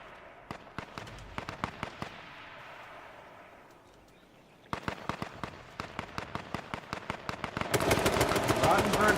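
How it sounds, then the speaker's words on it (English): Rapid gunfire rings out in an H1Z1 battle royale match: dense bursts of sharp shots, some distant and some near, building to a loud, continuous barrage toward the end, with talk underneath. "Rottenberg firing down towards the trailers"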